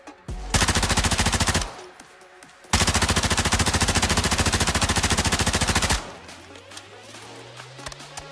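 Sustained automatic gunfire in Warzone 2.0, loud and close, in two long rapid bursts separated by a brief pause, followed by a quieter trailing tail.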